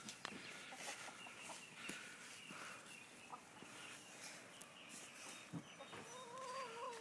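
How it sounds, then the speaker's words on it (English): Backyard chickens eating watermelon rinds cluck in scattered, uneven bursts, fairly faint and somewhat distant, with a few soft rustles and steps among them. "Chickens!"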